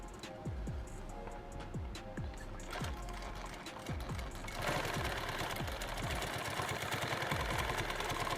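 Sewing machine stitching tacks through webbing on a 2-quart canteen build, a steady run of rapid needle thumps with a mechanical whir, the rhythm quickening and growing louder partway through.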